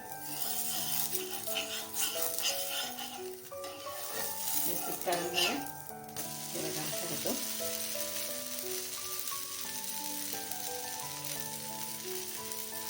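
A dosa sizzles steadily on a hot pan, a continuous frying hiss with a few metallic scrapes and clinks of a spatula partway through, fairly close and quiet, with background music-like tones underneath.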